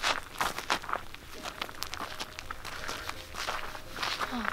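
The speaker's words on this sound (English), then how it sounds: "Keep walking." Footsteps walking through a dark attic at night, a run of close, scuffing, creaking steps on a wooden floor with an uneven pace and no talking.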